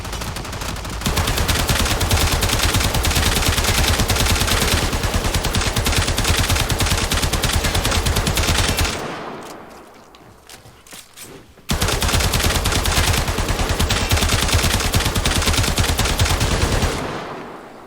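Sustained rapid automatic gunfire in the Warframe video game, fired at a level 165 corrupted heavy gunner; loud continuous bursts with a brief lull near the middle before firing resumes, no talk.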